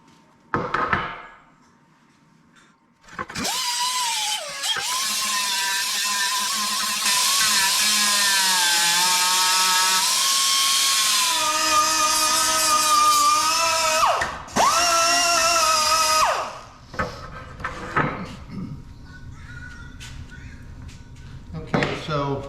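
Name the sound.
grinding off welded sheet metal end caps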